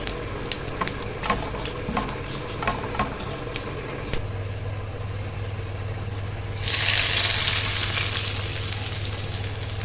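Cumin and whole peppercorns crackling in hot oil for a tempering, with scattered sharp pops, then a steadier sizzle that swells louder near the end, no speech.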